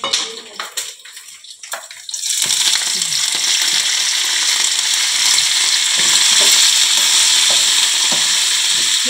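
Onion and garlic, with peanuts, curry leaves and coriander, hit hot oil after a few clattering knocks and then sizzle loudly and steadily while being stirred, with the continuous frying hiss filling the rest of the clip.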